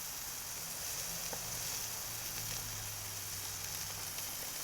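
Red cabbage, onions, peppers and corn cook on a griddle with a faint, even sizzle that holds steady with no talk.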